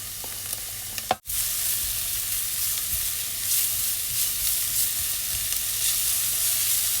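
Chopped leeks hit a hot pan and sizzle steadily, a bright crackling hiss that follows a brief clatter as they go in, then holds at an even, close level.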